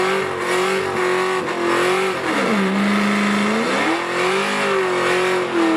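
A supercharged 556-horsepower Corvette Z06 engine in a station wagon with a six-speed manual gives a loud, continuous exhaust roar, its pitch dipping and climbing again as the revs change.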